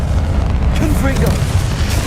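A Confringo fire spell blast in the Hogwarts Legacy video game lands as a deep, booming burst inside a dense, continuous low rumble of game noise, with a faint voice-like murmur running underneath.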